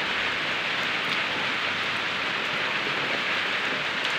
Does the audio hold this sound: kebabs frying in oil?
no